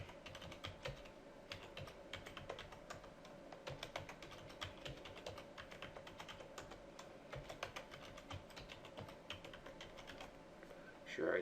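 Someone types a long password on a computer keyboard in steady, rapid runs of close key clicks that last throughout. A slightly louder burst of keystrokes comes at the very end.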